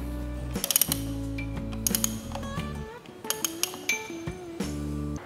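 A hand ratchet wrench being tightened, clicking and whirring in quick mechanical bursts with metallic clinks, close and fairly loud with brief pauses between strokes.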